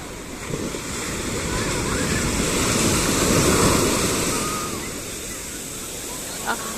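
Waves washing up onto a sandy shore, a broad hiss of surf swelling to a peak midway and receding, with wind noise on the microphone.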